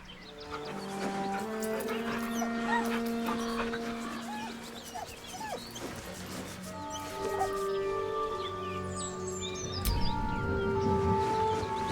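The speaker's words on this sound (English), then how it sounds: "The dog whimpers nervously," A dog in the video game Baldur's Gate 3 gives soft, nervous whimpers and whines over sustained tonal music, with small yips mixed in and a brief louder accent near the end.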